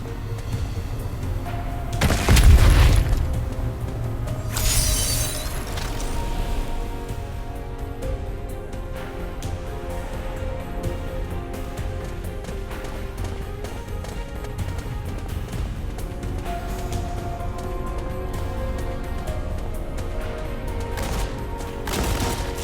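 A planted explosive blows up a wall in a fantasy adventure mobile game, with one loud booming blast and crackling debris early on, then fading into a steady layered game soundtrack.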